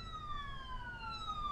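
Steady wail of a police siren in the emergency-dispatch game Keep The Peace, its tones gliding slowly downward, continuous and fairly loud over a low rumble, with no voices.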